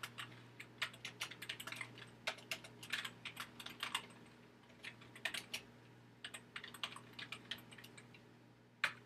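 Someone types steadily on a computer keyboard while writing an email, with bursts of quick keystrokes broken by brief pauses over a faint steady hum; no talking.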